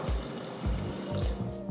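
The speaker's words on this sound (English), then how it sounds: "Now pour about 2 cups of water." Water pours into a pot of soup with lentils, turmeric and vegetables in a series of soft, splashing gulps, close up and gentle, with no voices.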